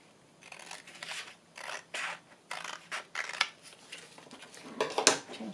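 Scissors snip repeatedly in short, crisp bursts with small pauses between cuts, close by and fairly quiet.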